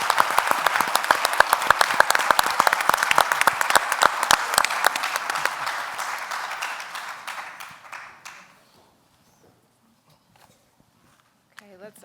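Loud sustained audience applause for a panel at a faith festival program on compassion and economics, dense clapping that gradually thins and fades into near silence, with a faint sound near the end.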